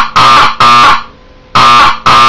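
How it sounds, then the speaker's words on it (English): Loud, harsh buzzing blasts from a Wheelock 31-115 fire alarm sounding code 4-4: two quick blasts, a pause, then two more, close and alone with no talking. "that's my first fire alarm"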